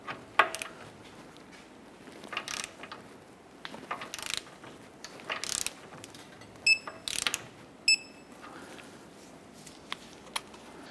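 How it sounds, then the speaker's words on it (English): A torque wrench ratchets on the lower ball joint nut of a 2008–2012 Honda Accord during wheel bearing work, sharp intermittent clicks and metallic bursts scattered across quiet pauses, close and fairly loud. "Let's go ahead and torque the lower ball joint nut to 60 foot-pounds."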